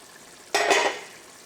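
Tomatoes cooking in oil in a pan over a medium flame, with one short burst of sizzling and stirring clatter that fades out within a second.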